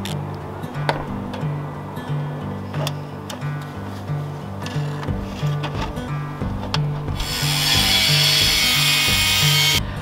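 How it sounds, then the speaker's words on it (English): Metal stovepipe is cut by hand with snips rather than an angle grinder, giving scattered sharp metallic clicks and scraping over a low rhythmic hum, followed near the end by a steady loud hiss. "Cutting that stovepipe without an angle grinder has been the worst part of this install yet."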